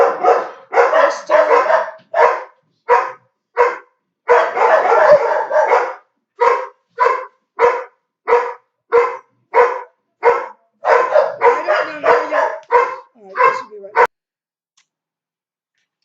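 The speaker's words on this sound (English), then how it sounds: "I just had to put the dog outside." A dog barks repeatedly indoors at a home, loud and close, in a steady run of sharp barks lasting about fourteen seconds, with someone speaking briefly between them before the barking suddenly stops.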